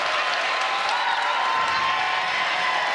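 Basketball crowd in a college gym bursting into steady applause and cheering, dense and continuous clapping filling the space for the whole stretch.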